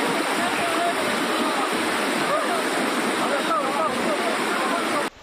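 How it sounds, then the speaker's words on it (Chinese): A flooded mountain creek at Wujie in Ren'ai, swollen waist-deep after heavy rain and running very fast, gives a loud, unbroken rushing roar that stays steady throughout and cuts off abruptly at the end. "毋过溪水流甲真紧，一直甲因对下骹冲画面真惊险"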